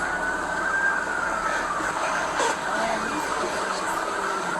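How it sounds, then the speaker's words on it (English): A wailing ambulance siren sweeps up and down at a distance, steady and continuous over a loud roadside hum. "That's an ambulance."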